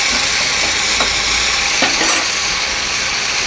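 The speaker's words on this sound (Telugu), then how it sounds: "ఈ చింతపండు కూడా కొంచెం వేగుతుంది కదా" Soaked tamarind sizzles steadily in a hot oil tempering for ivy gourd chutney, with a few soft stirring scrapes heard up close and no voices.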